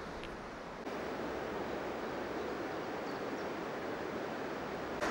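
A river rushes past a steep slope near a Swiss mountain bunker site, a constant broadband roar of flowing water, close and steady, with no talk over it.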